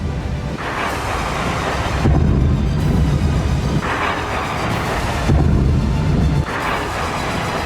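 Heavy explosions from a Russian missile and drone strike on the Ukrainian city of Kharkiv: repeated deep, rumbling booms that roll on like thunder, with several sustained loud blasts, no talking.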